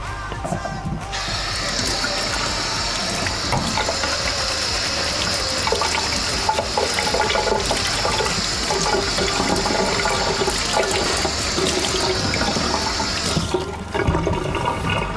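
Kitchen tap running steadily while potatoes are washed under it, a loud, continuous rush of water that starts abruptly and stops near the end, with no talking.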